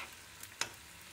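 Semolina roasts in a pan over a medium flame, giving a faint steady sizzle with a couple of soft scraping stirs.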